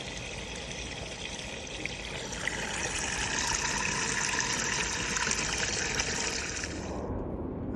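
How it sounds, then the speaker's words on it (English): Water gushes and trickles steadily out of a clogged gutter downspout on a house, a continuous close rushing flow that stops abruptly at the end. "Okay, so we got a lot of the water drained out of here,"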